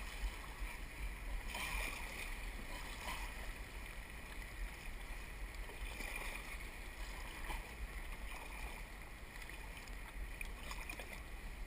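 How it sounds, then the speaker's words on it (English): A boat paddled through river rapids, with constant rushing water and wind noise and faint splashing paddle strokes, fairly quiet and steady with no clear talking. "Paddle hard, paddle hard."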